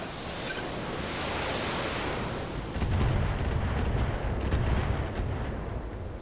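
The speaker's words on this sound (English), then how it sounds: "Long-range missiles are out." Long-range missile salvo in BattleTech, a roaring rush of launches that swells midway into a heavy, rumbling barrage with crackling bursts, loud and sustained.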